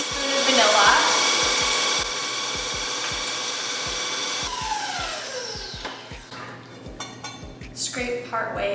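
Electric stand mixer running at medium speed through chocolate chip Heath cookie dough, a steady close whir with scraping and knocking, and a voice talking over it.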